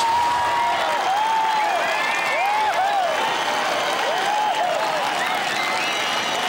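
A large gallery at a women's professional golf match cheers and applauds loudly and continuously after a putt rolls in, with whoops and shouts rising over the sustained clapping.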